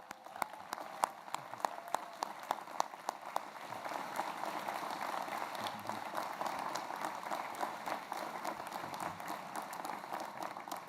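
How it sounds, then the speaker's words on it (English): A crowd at a medical school building dedication applauds steadily, with dense scattered clapping that builds and holds for several seconds at a moderate distance. "could we give you a round of applause?"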